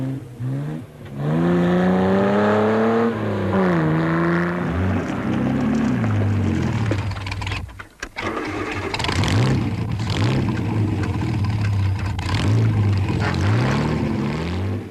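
Rally cars on the Gavia pass hairpins during the 1958 Coupe des Alpes, engines loud and close, pitch rising and falling as they rev through the bends, with no voices.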